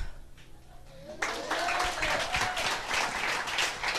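An audience at a seminar event bursts into applause after a quiet moment, loud sustained clapping from many hands filling the room, with a voice audible at the start.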